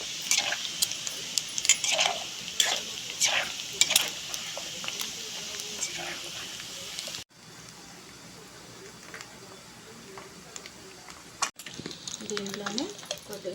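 Chicken pieces for pickle fry lightly in hot oil, a steady hiss with scattered crackles and occasional utensil clinks, close and fairly loud, shifting to a quieter sizzle partway through with a few scraping stirs.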